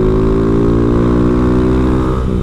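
Close, loud engine drone of a Honda Fan 160 motorcycle fitted with a Dore exhaust, riding at night, holding a steady revving tone through the whole stretch with a slight shift in pitch near the end.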